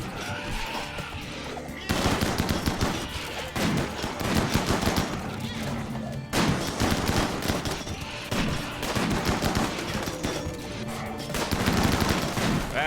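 Gunfire from a RimWorld firing line, dense volleys of overlapping shots in loud bursts separated by brief lulls, sustained and close throughout.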